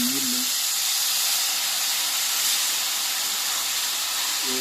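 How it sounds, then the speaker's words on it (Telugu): Paneer masala fries in ghee in a pan, giving a loud, constant hissing sizzle throughout with no break. A faint voice is briefly heard at the start and the end. "వేసి నెయ్యి నూనె పైకి వచ్చేదాకా వేయించుకోండి."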